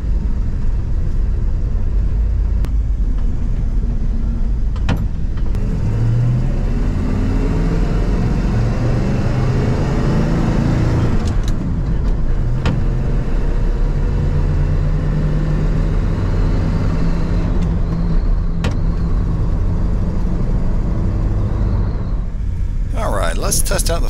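A car engine runs steadily in second gear while driving, a low, even rumble with occasional shifts in pitch beneath intermittent talking.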